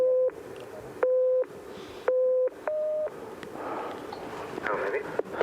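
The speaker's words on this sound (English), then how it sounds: "Okay, now you know for this test, David, you're going to try and count the low tones and ignore the high tones." Steady pure electronic tones from a hearing test at a high-altitude Everest camp, four long low beeps in a halting rhythm with brief higher tones between, clear and close, then murmured background noise.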